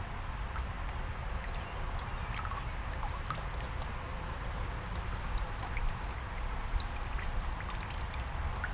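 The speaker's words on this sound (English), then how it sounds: "we're running water through it, and it's coming out the lower radiator hose" Water runs steadily through a Ford Ranger heater core tube and pours out of the lower radiator hose, a constant rushing, splashing flow that continues without break.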